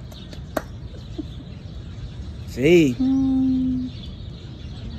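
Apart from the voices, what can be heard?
small birds chirping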